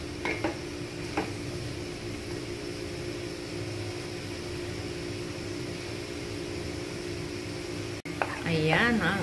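Carrots stirred in a pan for pansit give a continuous sizzle that runs throughout. Scraping utensil strokes and a brief clatter sit under it, and someone speaks over the end.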